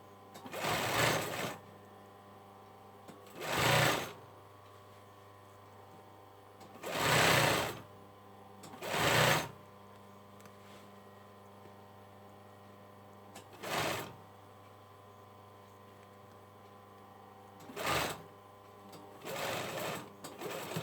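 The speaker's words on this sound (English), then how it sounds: "this will help me sew it into the neckline" A sewing machine stitches a hood lining into a hoodie neckline in short, close bursts of rapid whirring, about eight runs of a few seconds each, separated by quiet pauses over a low steady hum.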